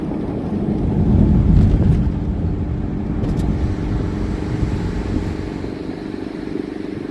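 A 2020 Ford Mustang 2.3L four-cylinder engine drones steadily from inside the car, with a broad low rumble and some wind noise swelling and easing as it drives.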